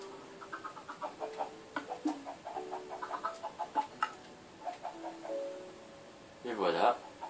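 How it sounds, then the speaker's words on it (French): Chickens in a video game cluck in a quick, steady run of short calls, a flock sounding close and fairly quiet, ending with a louder squawk. "Là, comme vous voyez, il y a beaucoup de poulets dedans."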